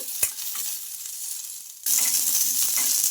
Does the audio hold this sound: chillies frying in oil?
yes